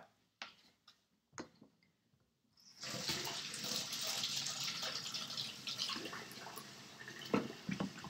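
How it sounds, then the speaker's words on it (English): Hands washed under a running kitchen tap before eating, while making deviled eggs: a few quiet clicks and knocks at first, then a steady, fairly loud rush of water that continues to the end. "I still need to wash them again before I start eating"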